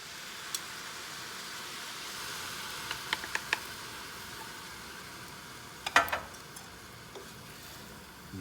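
Pad thai noodles and sauce tossed in a hot pan give a soft, steady sizzle with a few light ticks and clinks of the utensil scraping the pan, no voices.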